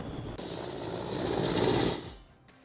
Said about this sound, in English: 14 individuals stranded amid the flooded Bomji River in Arunachal Pradesh were successfully rescued by an Indian Air Force Mi-17 helicopter